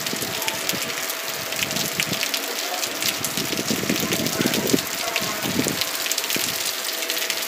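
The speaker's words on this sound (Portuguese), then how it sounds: "Aí o temporal aí é caindo." Heavy storm rain pours over a town square in Joaquim Gomes, in Brazil's Zona da Mata, a dense steady roaring wash with splashing gushes, with a voice speaking over it.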